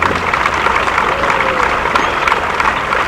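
A tennis crowd at Kalamazoo claps for the effort of both players, a loud, sustained patter of applause running the whole time, with some crowd noise woven through it.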